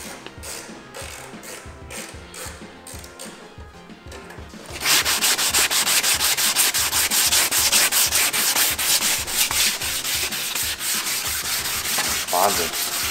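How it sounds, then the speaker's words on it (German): Abrasive sanding on a car headlight lens, a steady scratchy rubbing that starts softer and then grows louder and continuous after a few seconds, close and alone with no voices. "Schön alles abdecken und dann schleifen wir mal."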